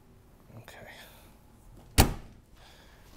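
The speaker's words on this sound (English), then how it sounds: "Carefully close the door." A Ferrari F355 door is closed gently, giving a single solid thunk after a stretch of quiet rustling, with soft movement sounds before and after.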